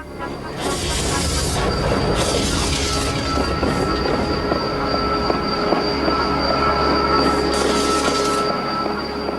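A steam train rumbles and clatters steadily at close range, with rhythmic wheel noise and a high metallic squeal running throughout.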